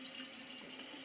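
Steady rushing water as a toilet fitted with a Fluidmaster fill valve runs, a continuous close wash of flow with no breaks and no voices.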